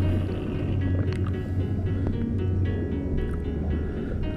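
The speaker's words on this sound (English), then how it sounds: "get a little close to that boat motor there" A continuous low boat motor drone heard underwater in the Great Lakes, muffled and steady, with faint bubbling and clicks on top.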